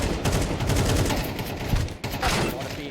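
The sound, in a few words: gunfire exchange in a video game shooter match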